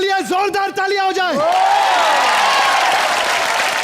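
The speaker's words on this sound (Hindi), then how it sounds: "घायल वंस अगेन के लिए जोरदार तालियां हो जाए" A studio audience at a comedy TV show bursts into loud, sustained applause for the Ghayal Once Again film team, starting right after a voice and filling the rest of the moment.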